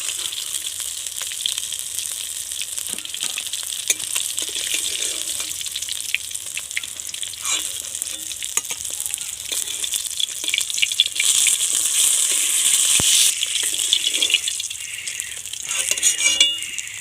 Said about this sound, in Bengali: আর এক পিস হালকা করে ভেজে নেব